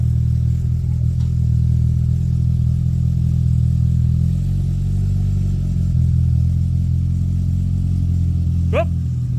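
Polaris RZR Pro R engine running through a side-exit exhaust muffler, a loud, steady low rumble that shifts slightly in pitch midway, with a short higher whine near the end.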